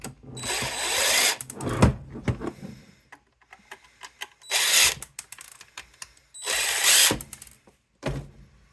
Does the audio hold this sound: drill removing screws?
yes